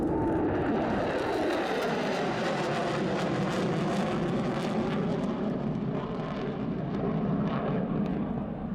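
A B-1B Lancer bomber climbing steeply at the Thunder over Michigan airshow roars with a loud, sustained, broad jet-engine rumble on afterburner, gradually shifting in pitch.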